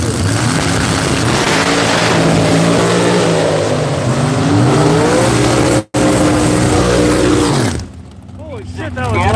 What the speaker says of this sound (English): Beautiful drag. Probably the fastest car here.